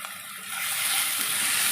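Onions fried in a pan with salt and sugar, with garlic, for an egg curry. The sizzle is close and loud and swells into a steady hiss as the pan is stirred.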